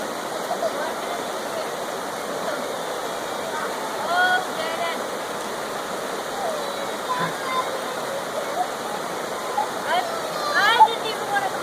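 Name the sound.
creek water flowing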